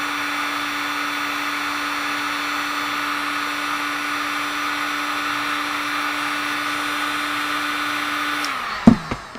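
A hot air blower heats a BMP390 barometric pressure sensor with a loud, steady whooshing hum and whine that runs unbroken, then cuts off near the end, followed by a few sharp clicks.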